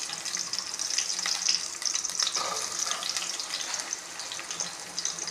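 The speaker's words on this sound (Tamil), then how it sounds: "எண்ணெய் காஞ்சிச்சு. இப்போது வெங்காயம் அரிஞ்சு வச்சுருக்கிற வெங்காயத்தை போட்டுக்கலாம்." Chopped onions go into hot oil for a prawn kuzhambu and fry with a steady, fairly close hiss that carries through the whole stretch, with no voices over it.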